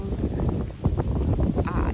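Strong wind blows across the open deck of the MSC Divina cruise ship at sea, a rough, gusting rumble of buffeting against the microphone, with someone talking over it.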